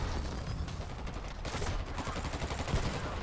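Rapid automatic turret gunfire in the shooter video game Dirty Bomb, a dense, continuous volley of shots that stays loud for the whole stretch with no talking.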